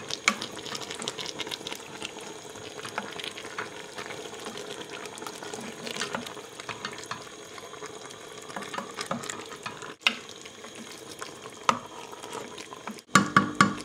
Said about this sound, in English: Now you can just stir this all up